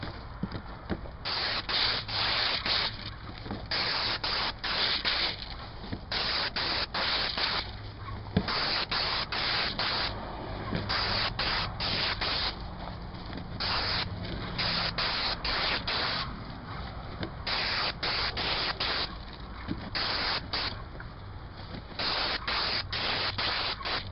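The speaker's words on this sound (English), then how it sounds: "I've got my Graco Contractor 2 gun with a Rack X 310 tip in it. Just going to be shielding the bottom and spraying the top." A Graco Contractor 2 spray gun with a Rac X 310 tip hisses steadily while spraying Sherwin super paint flat onto stucco trim, in repeated close bursts separated by brief gaps, with no voices.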